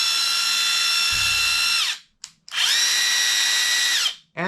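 Kobalt 24-volt brushless ratchet running freely in bursts, a high steady motor whine that spins up and winds down twice, with a brief low rattle near the start.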